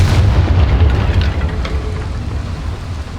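A loud, close Confringo spell explosion in Hogwarts Legacy, set in a mine: a heavy rumbling blast with a long dense roar and crackle that slowly fades over a few seconds.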